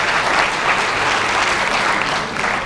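Sustained, dense audience applause fills a Hindi-Urdu literature award ceremony hall in Lucknow, steady and loud throughout without a break.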